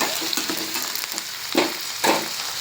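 Potatoes and onion fry in hot oil, a steady close sizzle broken by a couple of louder stirring scrapes, with no talking.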